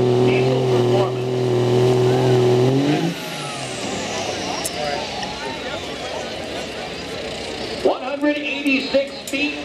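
1997 Dodge 3/4 ton diesel truck at a truck pull in Bakersfield, a loud sustained engine drone that cuts out partway, then rumble and crowd noise with an announcer talking.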